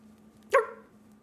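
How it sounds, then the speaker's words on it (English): A single short dog bark rings out close and fairly loud against a quiet indoor background with a low steady hum, with nothing else around it. "Dog."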